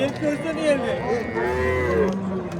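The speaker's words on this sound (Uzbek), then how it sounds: "Mana, chiroyli sigir." A cow moos at a crowded livestock bazaar in Oqdaryo, Yangiqurgon, giving several drawn-out, wavering calls close by over a steady murmur of crowd noise.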